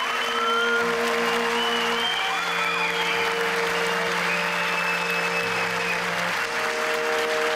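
Sustained applause from a theatre audience welcoming actor Rasim Öztekin to the stage at a traditional Turkish theatre kavuk handover ceremony, a dense, steady roar of clapping that fills the room, with music tones sounding faintly beneath it.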